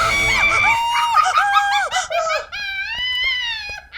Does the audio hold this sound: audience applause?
no